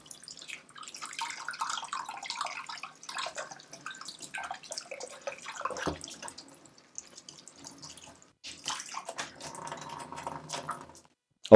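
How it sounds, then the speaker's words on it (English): Canned beans are rinsed under cold running tap water, heard as an uneven close splashing and trickling with drips and pauses, ending on a brief clatter, no voices. "We need to drain them, wash them under cold running water to take that syrup from the tin out."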